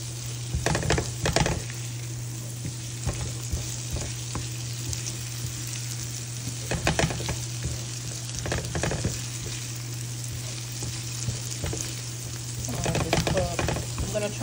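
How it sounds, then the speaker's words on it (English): Shrimp fry in a hot pan with a steady, close sizzle, broken by several louder bursts as the pieces are tossed and stirred; a constant low hum runs underneath. "going to give this a toss and continue to cook our shrimp"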